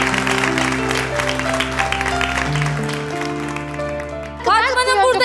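Studio audience applause on the Turkish daytime cooking competition show Gelinim Mutfakta, steady clapping blended beneath a loud musical sting, ending as a presenter's voice cuts in.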